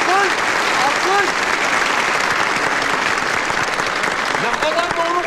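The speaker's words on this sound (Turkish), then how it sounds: "Alkış! Alkış! Alkış!" Sustained applause from a large crowd, steady and loud, with a few shouts rising over the clapping.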